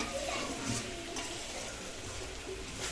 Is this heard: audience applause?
no